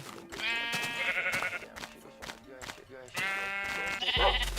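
Repeated video game sheep bleats, loud and harmonic, one after another with speech-like sounds mixed in, ending in a low rumble.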